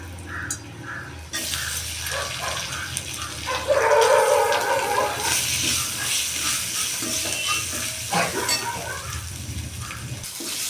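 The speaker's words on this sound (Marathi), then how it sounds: "आता पोटॅटो टाकू" Potato pieces tipped into a hot pan with oil and magic masala for a simple Maharashtrian batata bhaji, then stirred; steady close sizzling and frying with scraping stir sounds, louder after the potatoes go in, no talk.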